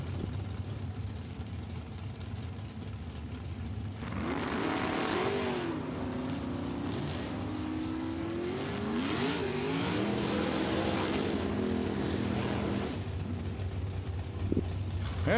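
Two Chevrolet Super Comp drag cars, one with a 632 cubic inch engine, rumble at idle, then roar loudly as they launch and pull away down the strip, the engine noise sustained for several seconds before fading.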